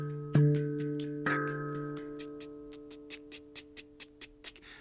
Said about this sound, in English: I play this ghost note in order to keep track of the time, in order to stay in the beat,